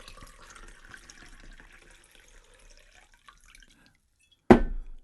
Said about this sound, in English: Pour another drink.